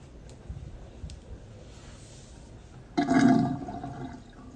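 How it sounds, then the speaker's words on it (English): Water draining from a bathroom sink through a Kohler click-type pop-up stopper, quiet clicks and faint trickles first, then a sudden gurgling rush of water swirling down the drain that slowly fades. "the sound of a clean drain or that cool little whirlpool as it goes down by the stopper"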